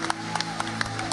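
A church congregation claps together during a Lord's Supper service, the claps landing in a rough steady rhythm over sustained musical tones and a low hum.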